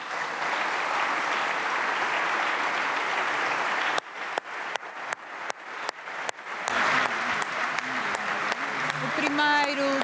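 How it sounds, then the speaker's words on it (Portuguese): Audience applause fills a solemn session marking the 50th anniversary of 25 November 1975, honouring General António Ramalho Eanes. Dense, steady clapping lasts about four seconds, then breaks off into sparse sharp claps and a speaking voice. "O primeiro grande aplauso"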